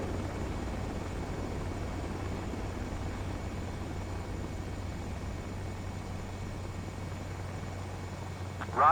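Fighter jet touching down and rolling along a runway in the combat flight game Ace Combat 7, a steady broadband engine roar that holds level throughout with a brief louder burst at the very end.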